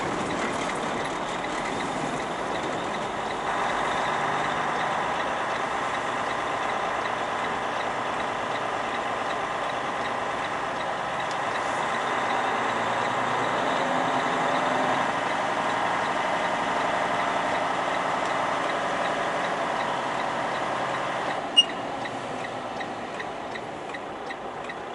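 A container lift machine in a rail yard drones steadily at a distance for a long stretch, a constant mechanical hum with one sharp clank near the end.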